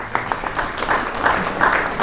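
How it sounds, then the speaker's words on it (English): An audience at a talk applauds, a full round of clapping that swells slightly in loudness over its short length, with no clear voices on top. "Round of applause."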